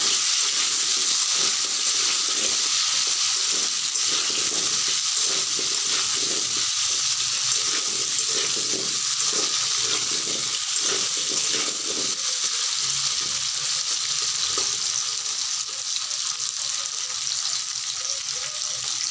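Small potatoes frying in oil for Bengali alur dum, a dense continuous sizzle with soft occasional stirring, close and loud, no talking.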